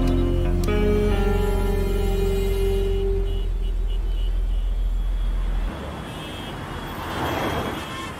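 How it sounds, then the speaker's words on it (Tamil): A car drives through road traffic, first with a steady low engine drone and hum, then shifting to a softer broadband rush of passing traffic and road noise, with no voices. "டிராஃபிக்ல நடு ரோட்ல வண்டி ஓட்டிட்டு இருக்கேன்"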